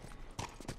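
Horse hooves clip-clop in The Last of Us video game, a quick run of quiet, hollow steps at a walking pace.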